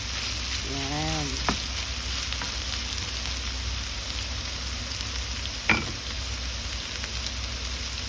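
Eggplant sizzles steadily in a pan with oil, a constant frying hiss throughout, with a few soft scrapes and clinks as it is stirred.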